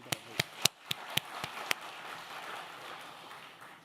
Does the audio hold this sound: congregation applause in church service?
yes